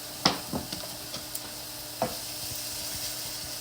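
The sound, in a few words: onions softening in a pan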